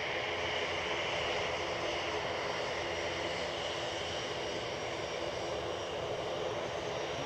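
An ATR turboprop airliner at Edinburgh Airport gives off a constant, loud engine drone with a broad, even hiss. It stays unbroken from start to finish, with no voices.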